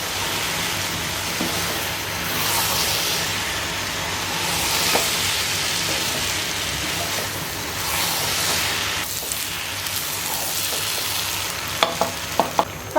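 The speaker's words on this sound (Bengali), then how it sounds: "নেড়ে ছেড়ে দিব।" Rice and chicken being stirred for biryani in a cooking pot, a steady sizzling scrape that runs continuously close up, with a few sharp clinks near the end.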